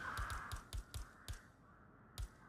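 Crows caw in a rapid series of harsh, separate calls, some close together and one later, set against steady ambient noise on an English country estate in Hitman 3.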